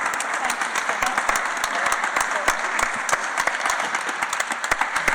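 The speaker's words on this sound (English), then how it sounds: "can we all just give Jane a bit of a round of applause for all her work to getting this done" Audience at an awards ceremony and annual general meeting giving Jane Southgate a round of applause, loud dense clapping from a full room with crisp individual claps standing out, continuous and steady throughout.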